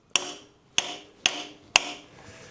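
A brass hammer taps a Welsh freeze plug into the bore of a Chevy 372 engine block, four sharp metallic knocks at an even pace, each with a short ringing decay, close and clear with no talking.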